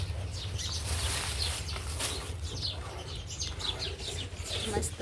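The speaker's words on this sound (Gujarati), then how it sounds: "ચકલા પણ બોલે છે ઝાડ ઉપર" Sparrows chirping in a tree in quick, scattered bursts, fairly close, over a low rumble of outdoor background noise.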